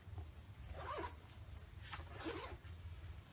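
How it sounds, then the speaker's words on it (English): Two quick zipping strokes from a Pentagon Trojan backpack zipper, close and fairly clear over a low background hum, with no one talking. "Very smooth zippers and not too heavy."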